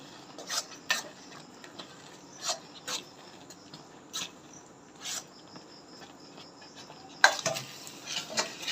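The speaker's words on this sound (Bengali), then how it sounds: "এবার আমি মিশিয়ে নেব দেখুন" Grated coconut is mixed into a mango filling for patishapta, with a utensil scraping and clinking against a bowl in separate irregular strokes. The strokes are fairly quiet at first, then turn busier and louder toward the end.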